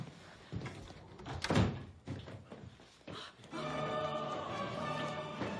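A door shuts with a heavy thunk in an indoor room, followed by scrapes and shuffling, then a steady hum of background noise after the close.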